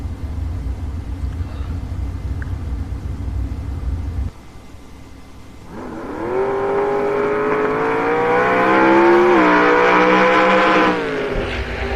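A twin-turbocharged LS-powered dragster at a drag strip rumbles low, then launches into a loud, rising engine roar that climbs steadily in pitch as it accelerates, holding strong for several seconds before cutting off abruptly.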